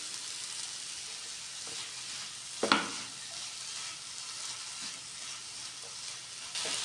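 Potatoes and cabbage sizzle steadily in a pan for veg shawarma, with a scraping stir near the middle and a few softer stirring touches over the constant frying hiss.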